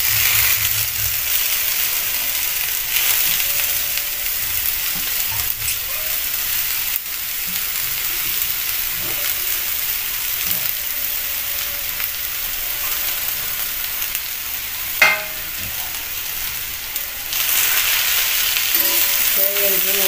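Drumstick leaf greens with crushed garlic and onion sizzle in a hot pan, a continuous close frying hiss lasting throughout, with occasional soft stirring scrapes and a sharp clink midway.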